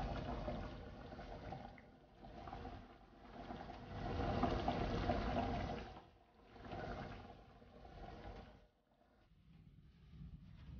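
Mutton motchai curry simmering in a pot, a soft bubbling and churning that swells and fades in waves before dropping away near the end.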